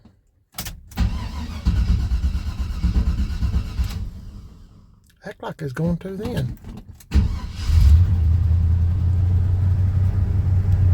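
A 1978 Chevy C10 truck engine cranks, falls briefly quiet with a few clanks, cranks again and catches, settling into a loud, steady low idle close by while someone speaks over the start.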